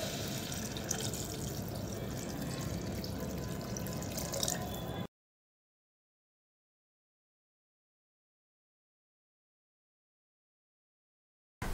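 Water poured into a pan of masoor dal being cooked at home, a steady splashing, trickling pour for about five seconds, then silence.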